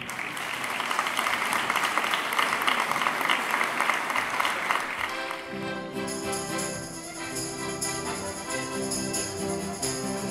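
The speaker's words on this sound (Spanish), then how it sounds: "Un fuerte aplauso." Audience applause at a charity solidarity festival in Burlada for a solo jota singer, steady dense clapping that fades after about five seconds as instrumental music begins.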